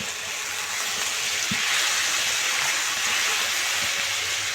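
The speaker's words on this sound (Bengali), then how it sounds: "এখন আমি অল্প পরিমাণে জল দিয়ে দেব।" Water poured into a frying pan of pangas fish curry masala gives a steady, loud hissing rush of sizzle and splashing that continues unbroken throughout.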